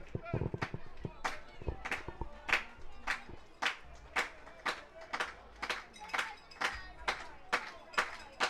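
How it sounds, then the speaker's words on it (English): Baseball fans at an Intercounty Baseball League playoff game between the Toronto Maple Leafs and Barrie Baycats clap in a steady, even rhythm, about one or two claps per second, crisp and fairly close throughout. "Fans clapping."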